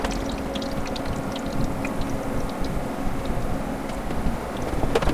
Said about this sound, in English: We're just going to fry it till it gets golden brown.